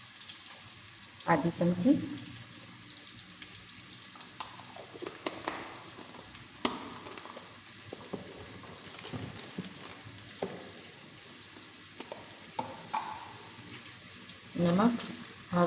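Cumin seeds sizzle in hot oil for a spiced keema, aloo and matar dish, with a soft steady crackle and scattered utensil clinks and scrapes; someone speaks briefly over it.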